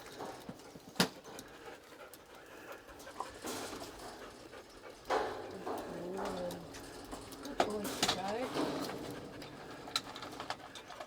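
Dogs pant and whimper faintly at a rural farm campsite, soft breathy panting with short whines and a few small knocks, heard at a distance alongside background bird cooing.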